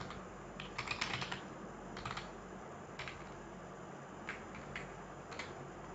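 Quiet, steady typing on a computer keyboard while a simple HTML web page is written, with soft irregular key clicks in short bursts and no voices.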